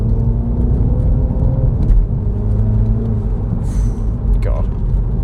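A 300bhp Mini John Cooper Works on boost, heard from inside on a UK road, its engine a loud steady low drone with faint whines and brief sharp ticks over the top.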